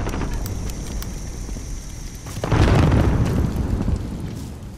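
Missile explosion in the Call of Duty: Modern Warfare video game: a heavy, rumbling boom erupts about halfway through and sustains for over a second before fading, set over steady ambient battle noise, with no talking.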